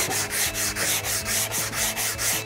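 Pine wood sanded by hand with 120 grit sandpaper in quick, steady back-and-forth strokes, a close, even rasping rhythm of about four strokes per second that carries on without pause and with no voices.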